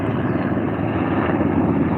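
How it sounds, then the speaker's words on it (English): A loud, steady firefighting helicopter rotor drone fills the air over a riverbed brush fire, a constant low thrum with no pauses. "water dropping helicopters"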